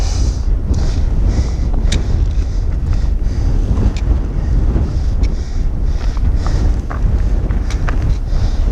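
Strong gusts on the Colorado Trail buffet the microphone, producing a constant loud low rumble with fluctuating roar and no talking.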